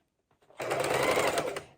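A sewing machine stitches fabric strips onto a homemade rag tie room divider, one close, steady burst of rapid whirring that starts after a brief pause and cuts off sharply.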